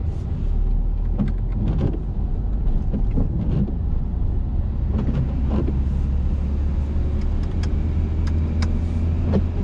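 A car pulls away again during a driving lesson, its engine a steady low rumble inside the cabin. Light knocks and rattles come through over the drone.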